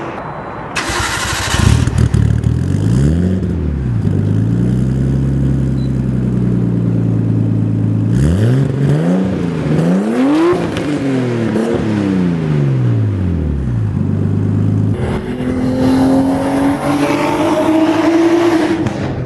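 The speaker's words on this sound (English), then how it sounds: "this car makes about sub 200 horsepower, but number 1, it sounds amazing" A Nissan R32 Skyline engine of just under 200 horsepower revs hard and accelerates through several gears, each pull rising in pitch before dropping at the shift, loud and close, with no talking.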